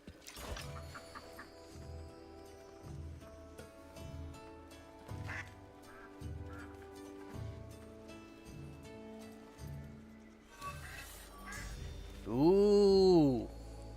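Ducks in the video game Soulframe quack repeatedly in short bursts over a rhythmic pulsing game soundtrack, finishing with a louder, drawn-out wavering quack near the end.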